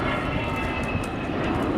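An Avro Vulcan XH558 delta-wing bomber flies a display at the Yorkshire Airshow 2015, its jet engines producing a loud, continuous roar throughout.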